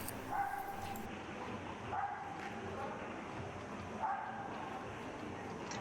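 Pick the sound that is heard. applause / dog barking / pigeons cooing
dog barking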